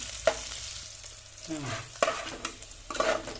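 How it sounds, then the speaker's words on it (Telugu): Tomato, chili and garlic paste is stirred in a frying pan with onions for a flat bean curry, giving a soft sizzle with a few scraping spoon strokes and clinks. "పేస్ట్ వేసేసి మంచిగా కలుపుకున్నాము"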